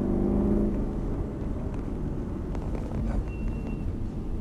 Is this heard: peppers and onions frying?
no